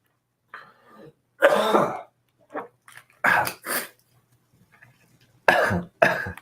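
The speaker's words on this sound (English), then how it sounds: "Just what you need when you're teaching all weekend is a cough." A person coughing and clearing their throat in several separate harsh bursts, close and fairly loud, with quiet pauses between fits.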